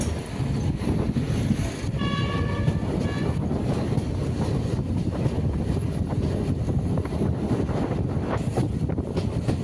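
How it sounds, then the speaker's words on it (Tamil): EMU passenger train pulling into Vellore Town station, a steady loud rumble of wheels and rail noise with wind buffeting the microphone throughout, plus a brief high tonal squeal near the start. "நம்ம வண்டி ஆன் டைம் கரெக்டாக 9:23க்கு வேலூர் டவுனுக்கு நம்ம வண்டி வந்துடுச்சு"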